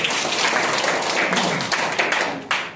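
An audience claps hands loudly together, a dense burst of applause that stays steady and then tapers off with a few last claps near the end.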